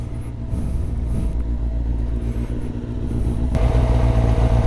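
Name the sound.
Kawasaki ZZR600 motorcycle engine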